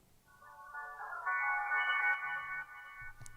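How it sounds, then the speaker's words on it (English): Wurli electric piano phrase from a Mirage sample kit, treated with delay and EQ that cuts the lows, swelling into sustained layered chords for a few seconds before a brief low thump at the end. "I took this one other phrase from my Mirage kit called Wurli"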